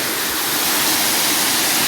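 A waterfall on the Champagne River in Saint Ann, Jamaica, roars as a steady, dense, close wash of falling water that holds constant throughout with no voices.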